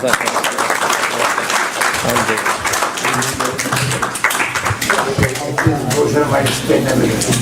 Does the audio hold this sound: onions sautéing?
no